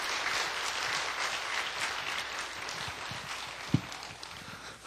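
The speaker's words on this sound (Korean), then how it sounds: "이 시간 나오실 때 박수로 맞이해 주시기 바랍니다" A church congregation at a worship service claps in welcome, a dense, sustained burst of applause with one sharp louder clap near the end.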